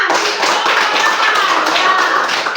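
Children applauding in a classroom, a busy patter of hand claps that runs steadily throughout, fairly close and loud, with a faint voice mixed in.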